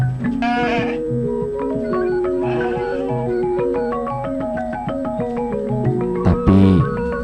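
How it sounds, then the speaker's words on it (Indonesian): Garut sheep bleat repeatedly at close range, one loud call after another with overlapping cries from other animals in the flock. "domba Garut ini"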